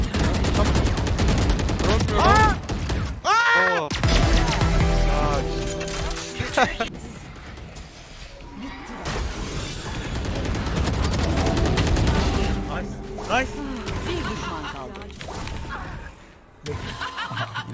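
Rapid bursts of gunfire and a few single shots from a Valorant match, loud and mixed under excited voices, chatter and laughter from players throughout.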